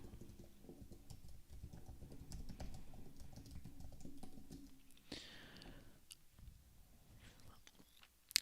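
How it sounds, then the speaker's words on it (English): Typing on an Apple Magic Keyboard: quiet, quick key clicks in an uneven rhythm, close by, with a brief pause partway before the tapping resumes and ends in a couple of sharper strikes. "I'm using my Magic keyboard because my iMac died."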